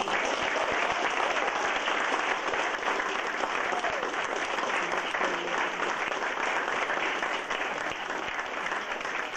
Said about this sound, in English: Well, thank you for the applause.